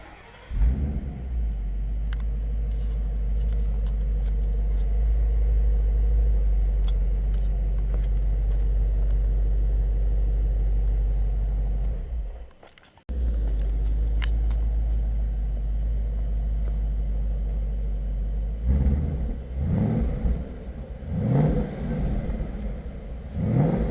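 The stock exhaust of a 2017 Mustang GT idles with a deep, steady rumble up close and cuts out briefly. The engine then restarts and is blipped through several short, throaty revs near the end.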